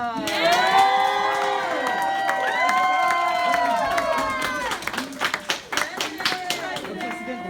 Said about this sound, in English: So if we can all get a round of applause for Elijah.